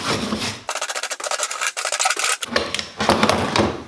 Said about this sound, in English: I try to clean this crud off of here to make sure this thing actually cools instead of just being caked full of muck.